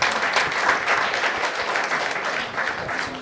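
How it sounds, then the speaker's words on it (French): Audience at a school ceremony on a business school campus in Thiès applauding steadily, a dense, continuous clapping from a sizable crowd heard up close with no speech over it. "je demande d'applaudir notre parrain"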